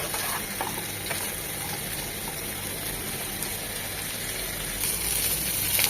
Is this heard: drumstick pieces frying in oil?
yes